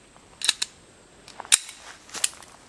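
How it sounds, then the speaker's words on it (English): An empty 9mm handgun is cleared. Three or four sharp metallic clicks and clacks of the slide and action come in a quick irregular sequence, close and crisp against a quiet background. "I'm empty, so I'm going to go ahead and clear my gun."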